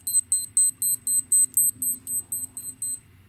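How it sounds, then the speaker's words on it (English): About twelve short, high-pitched electronic beeps from a Citizen Skyhawk Blue Angels titanium wristwatch alarm in a quick, even rhythm, close and clear over faint background noise. "pretty good beep from the alarm or the countdown timer"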